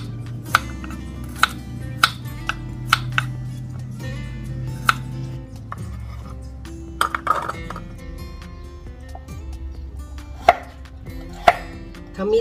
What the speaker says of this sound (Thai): ต่อมาเราก็จะมาหั่นส่วนผสมของเครื่องแกงกันนะคะ